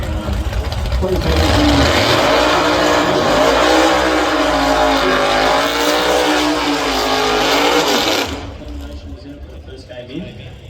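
Drag racing car at Sydney Dragway, originally a Ford Focus body now rebranded as a Honda Civic, roars loudly and steadily with a wavering engine note for about eight seconds, then cuts away to quieter background.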